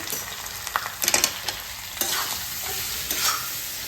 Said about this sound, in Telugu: ఇలా చేసి ఇందులోనే పసుపు, రుచికి సరిపడా ఉప్పు వేసుకొని బాగా కలుపుకోవాలి.